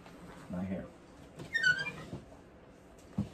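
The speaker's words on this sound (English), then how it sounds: "Sorry for the squeaky noise. It's one of my drawers." Drawer sliding open or shut with a brief high, wavering squeak in the middle, between stretches of someone talking quietly nearby.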